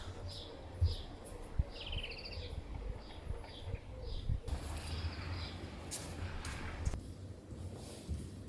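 Birds chirp and sing outdoors at a family home in Portugal, scattered high calls coming in short phrases over a low background rumble, fairly faint and distant.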